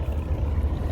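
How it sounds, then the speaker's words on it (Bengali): A large sand-carrying cargo ship passes on a river at Mirpur Beribadh, Dhaka, a steady low engine rumble and drone running unbroken and fairly close. "বিশাল একটা জাহাজ যাইতে আছে,"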